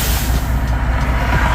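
A diesel truck's air brakes release in a brief, loud, continuous hiss of escaping air.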